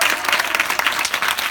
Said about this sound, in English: First, give her a round of applause, guys.